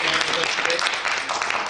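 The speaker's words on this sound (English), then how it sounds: "Please give him a round of applause." A theatre audience at a post-show talkback claps in a dense, close burst of applause, with voices mixed in.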